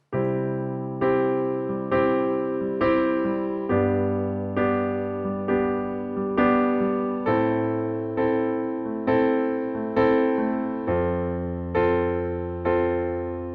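A piano plays a smooth chord progression in close position, about a dozen sustained chords struck one after another at a steady, unhurried pace, each ringing then fading.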